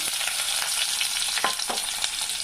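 Pieces of amla, the Indian gooseberry, fry in oil in a pan for a roti pachadi chutney, giving a steady close sizzle with a few scraping stir sounds over it and no talk.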